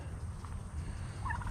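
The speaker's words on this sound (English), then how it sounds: "Okay, now let's check on these turkeys here." Farm turkeys gobble faintly in the distance over a low, steady rumble of outdoor background noise, with a short warbling call near the end.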